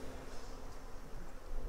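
Honey bees droning around a hive, a dense continuous buzz at close range with no one speaking.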